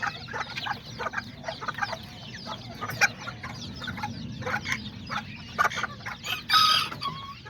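A mother hen clucks with her chicks among other chickens, giving repeated short, soft clucks and chirps over a steady outdoor background, close by, with a louder squawk near the end.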